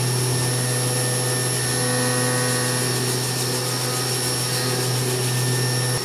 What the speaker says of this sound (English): So I'm gonna hand sand finish this.